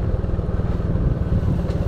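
A motorcycle rides along a narrow shortcut road instead of the main highway, its engine giving a close, continuous low rumble with slight wobbles in loudness and no pauses.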